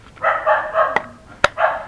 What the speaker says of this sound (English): now my dog's gonna bark